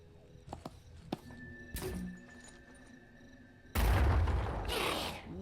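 A grenade explodes in a video game as a single sudden, loud, rumbling blast that rings out for over a second, following scattered quieter thuds and clicks of in-game action.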